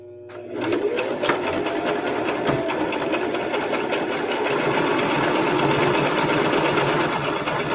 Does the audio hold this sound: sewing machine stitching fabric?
yes